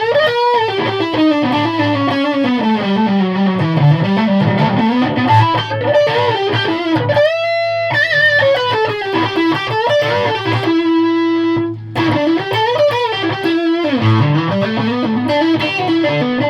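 Electric guitar driven through distortion pedals into a Victory amp, loud and sustained, with a thick, harmonically rich overdriven tone. Chords and melodic runs continue for the whole span with no talking.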